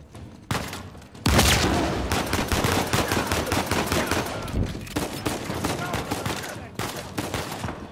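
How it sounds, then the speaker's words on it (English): Pistol shots ring out in Uncharted 4, starting with a sharp report, then a dense, loud volley of rapid overlapping shots, then scattered bursts, with no talking. "bunch of pistol shooting, isn't it?"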